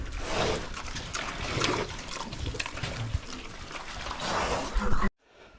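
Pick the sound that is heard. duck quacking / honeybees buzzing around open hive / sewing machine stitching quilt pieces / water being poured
water being poured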